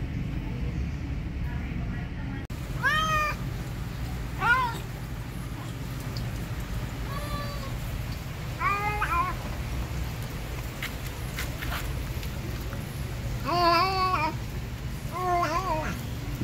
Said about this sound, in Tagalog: nagsasalita itong pusa na ito